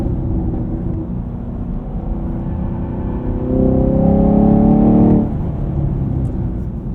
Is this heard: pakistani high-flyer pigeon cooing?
no